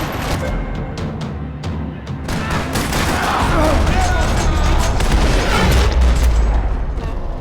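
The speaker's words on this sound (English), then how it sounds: "Another parking lot rattling with gunfire." Rattling bursts of automatic gunfire and booms fill a parking lot shootout in the video game Max Payne 3, loud and continuous with impacts and low rumble throughout.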